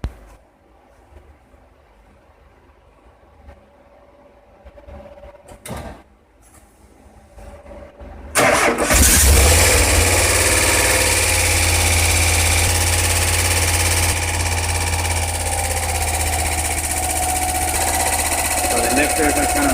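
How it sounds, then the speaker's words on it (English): A Subaru 2.2L engine swapped into a 1982 VW Vanagon Westfalia cranks briefly after a quiet stretch with some talking, then catches and idles loudly with a busy, ticking clatter from noisy lifters on a first-ever start. "Lifters are kind of loud right now because this engine has never started."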